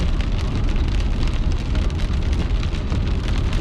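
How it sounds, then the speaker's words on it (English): Cold rain drums steadily on a car driving through the mountains near Weber City, Virginia, a loud, dense patter with road rumble beneath and no pauses. "It's a cold, wet rain."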